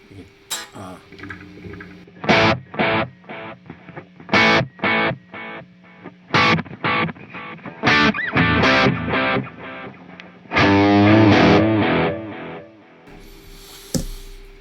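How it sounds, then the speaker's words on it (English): Guitar played as single notes through an echo effect in a stereo FX loop of a racked Reload II, each plucked note followed by repeating decays, with a busier strummed passage near the end. "There's your that's the echo."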